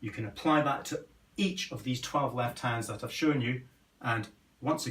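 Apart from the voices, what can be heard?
None of the usual background noises is heard.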